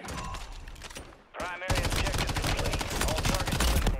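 Dense video-game gunfire from a chopper-nuke multiplayer match, rapid automatic bursts and heavy blasts running loud and continuous after a brief lull, with a voice talking over the start.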